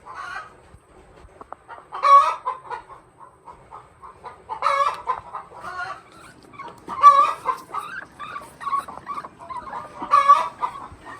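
A hen on a farm clucking and squawking close by, with four loud bursts of calling at roughly three-second intervals and softer clucks in between, alone without talk.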